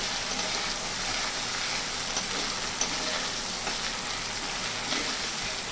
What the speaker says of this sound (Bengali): মশলাটা একটু ভালো করে নেড়ে চেড়ে কষিয়ে নিতে হবে।